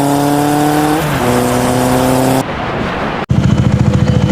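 A 200cc motorcycle with a swapped, larger aftermarket exhaust revs loudly and steadily close by in Taiwan, its throttle rising, dropping briefly, then pulsing in rapid bursts.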